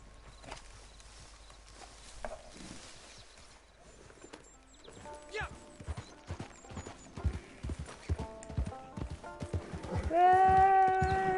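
Horse hooves clip-clop in a video game, a steady run of hoofbeats building to a louder whinny-like tone at the end, amid game sounds and no clear talk.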